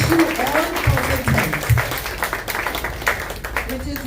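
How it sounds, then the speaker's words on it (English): An audience at an organic cafe talk gives Dr. Shah a round of applause, a close, fairly loud burst of clapping with some voices mixed in. "Can we have a round of applause?"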